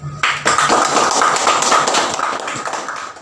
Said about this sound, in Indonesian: Mari kita kasih aplaus kepada mereka semua.